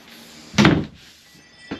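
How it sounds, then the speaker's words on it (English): A pocket door sliding shut inside the bedroom of a 2024 Grand Design Reflection 362TBS fifth-wheel RV, giving one solid close thump followed by a softer knock about a second later, near and alone. "Pocket door to close off this area."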